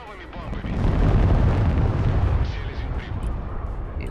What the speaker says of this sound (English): Oh, we're gonna actually get these freaking bombs off.